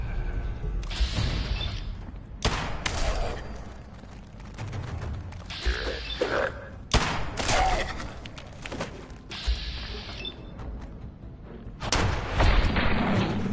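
Gunfire in a shooter game, sharp loud bursts of shots recurring every couple of seconds with booming thuds between, close and punchy, with a voice speaking in the gaps.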